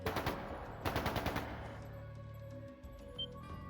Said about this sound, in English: sounded like gunfire